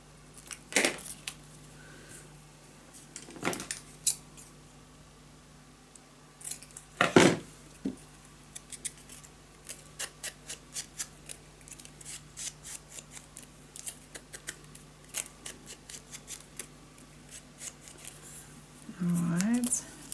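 Paper being trimmed with scissors for a wildflower-themed scrapbook mini album: several sharp, separate snips spread out over a quiet background, with a few soft handling rustles and brief speech.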